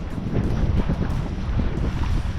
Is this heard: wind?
yes